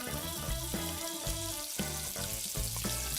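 Petai stink beans frying in hot oil, a steady, dense sizzle and crackle throughout, close and continuous with light clatter and stirring underneath.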